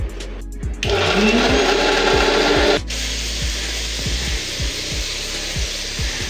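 An electric mixer whirs loudly for about two seconds while blending a spice mixture with whole cumin in a home kitchen, then cuts off, leaving quieter kitchen clatter and a steady background hum.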